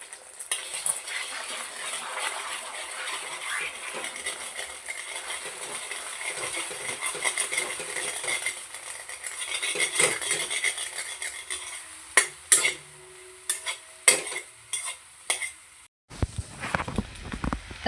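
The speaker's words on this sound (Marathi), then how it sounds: "आता आहे ना आपलं तेल तापलेलं आहे, तर त्यामध्ये ना आपण अंडं टाकूया. आणि आहे ना अंड्याची भुर्जी बनवून घेऊया." Egg scrambling in hot oil for bhurji, a continuous close sizzle with stirring, then sharp clinks and scrapes of a utensil against the pan near the end.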